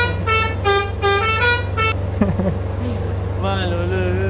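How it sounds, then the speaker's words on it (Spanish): A car horn honks repeatedly in traffic, several short bright blasts in a row over a steady engine hum inside the vehicle, followed by further horn tones and someone talking. "Así que voy con esa bocina por las dudas."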